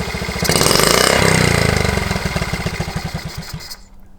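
A Honda T50 motorcycle engine, back running after ten years, revs up loudly on the throttle with a rough, pulsing firing rhythm that later slows and stutters as it chokes out, ending abruptly.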